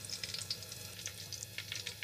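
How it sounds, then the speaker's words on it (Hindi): Dry fruits roasting in a pan while cooking vegetable pulao, a soft continuous sizzle with light crackles and small pops, close and quiet, with no talking. "अब हम इसमें डालेंगे ड्राई फ्रूट्स और इन्हें भी भून लेंगे।"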